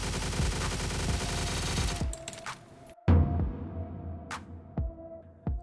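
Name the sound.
SA-58 rifle automatic gunfire in the video game Stalcraft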